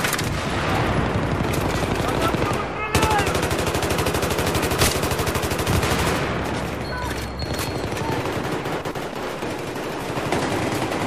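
Battlefield 3 gunfire: sustained, close, loud bursts of automatic fire rattle almost without pause, then shift to looser shots and distant crackling; a voice briefly talks over the barrage.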